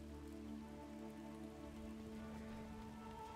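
Steady rain patters throughout in the Battle for Middle Earth 2 strategy game during an online match, an even dense hiss layered over low sustained game tones, with no voices.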